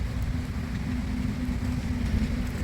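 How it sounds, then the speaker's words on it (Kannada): Steady rain pours down at a dairy cattle farm by a highway, a dense continuous hiss with a low rumble underneath and no talking. "ಮಳೆ ಬಂತು"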